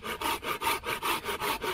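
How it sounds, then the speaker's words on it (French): A Silky Big Boy saw cuts through wood at a woodland bivouac camp, with about seven steady back-and-forth strokes, each a raspy, close scrape in an even rhythm. "La Silky Big Boy, c'est un monstre."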